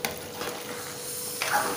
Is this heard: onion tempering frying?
yes